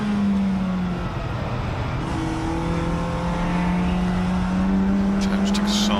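Honda and MG ZR touring race cars at Silverstone National, engines droning loud and steady as they close up nose to tail toward a braking zone, pitch rising and falling as they pass, with commentary talking over them.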